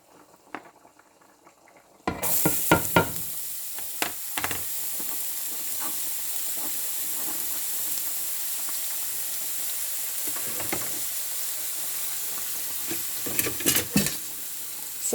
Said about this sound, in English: add some approximately 4 tablespoons of olive oil, and I have to add my red cooking onions.